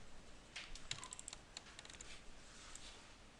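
Quiet, close clicking on a computer keyboard, a quick run of keystrokes and key taps in irregular rhythm with brief pauses between bursts.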